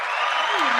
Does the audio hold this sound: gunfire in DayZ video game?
no